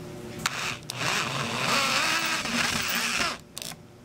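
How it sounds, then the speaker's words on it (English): A power drill whirs steadily for a few seconds with a rising, straining motor tone, preceded and followed by brief clicks and handling noises. "Our next step is to drill the screw into the hole."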